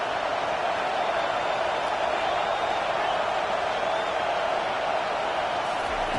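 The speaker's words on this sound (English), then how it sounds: "Decibels rising as the crowd gets behind this defense on 3rd down." A football stadium crowd roars for the defense on third down, a loud, continuous wall of cheering that holds steady without letup from start to end.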